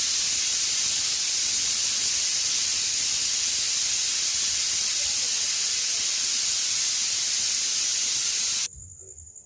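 A pressure cooker cooking vegetables on a home kitchen stove at night lets off a loud, steady steam hiss and whistle lasting several seconds before it cuts off abruptly near the end.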